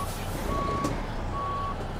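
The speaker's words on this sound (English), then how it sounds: "then I can reverse into my truck." Truck reversing beeps from American or Euro Truck Simulator: two steady, evenly spaced electronic tones, each lasting about half a second, over a constant low engine rumble.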